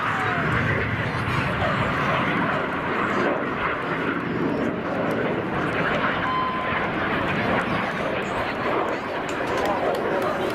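Synchro pair display jets at the Torbay Air Show sweep past in a final cross, a broad continuous roar filling the whole stretch steadily, with an announcer talking over it.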